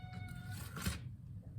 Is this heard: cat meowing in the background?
yes